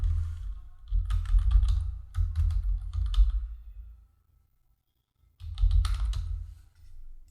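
Typing on a computer keyboard, entering a company name into a form: bursts of quick, close clicking keystrokes, a pause of about a second, then another short run of keys.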